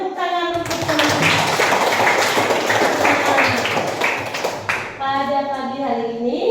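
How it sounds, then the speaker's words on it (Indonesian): Schoolchildren in a classroom clap for their classmates, a dense burst of applause lasting several seconds, with someone speaking before and after it. "Berikan tepuk tangan untuk teman-teman."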